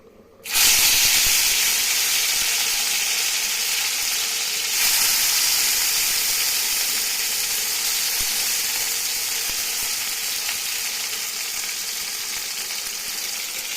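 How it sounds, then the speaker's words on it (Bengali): Bitter gourd pieces dropped into hot oil in a pan, bursting into a loud, close, continuous hissing fry that stays strong and slowly eases over several seconds, with no speech. "এবার একে একে সবজিগুলোকে ভেজে ফেলতে হবে ফার্স্টে উচ্ছেটাকে দিলাম"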